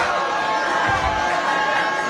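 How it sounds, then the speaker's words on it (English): Crowd at a political event with veterans, a steady loud wash of many voices jeering and booing, with no single voice standing out. "I don't understand why you guys are booing"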